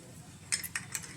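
A spoon stirring protein powder into a glass of milk in a steel glass, several light, quick metallic clinks against the rim over faint background hiss, close and fairly quiet.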